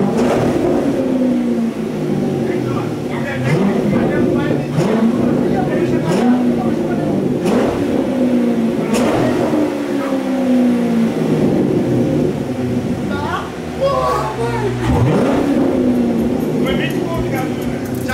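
A motorcycle engine revs repeatedly in rising and falling bursts, close and loud, while people talk over it throughout.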